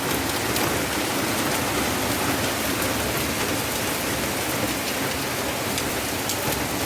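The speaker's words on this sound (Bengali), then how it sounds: "কি জোর বৃষ্টি হচ্ছে বাইরে" Heavy rain pours outdoors at night in a dense, continuous hiss, loud and unbroken with faint drips standing out.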